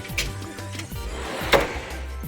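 A drawer on a Snap-on tool box slides and knocks shut, giving a few short wooden-sounding clunks and one sharper bang near the end in a quiet garage setting.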